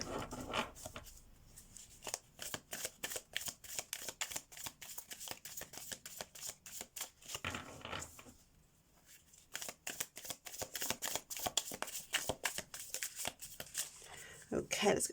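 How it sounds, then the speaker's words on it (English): Tarot cards shuffled by hand in rapid riffling bursts, close and crisp, with a short pause midway before the shuffling resumes; a voice speaks now and then. "Okay, let's get some cards."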